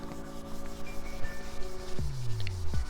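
An aluminum wheel rim is polished by hand with polishing compound, giving close, continuous rubbing and scrubbing strokes with a few brief squeaks near the end.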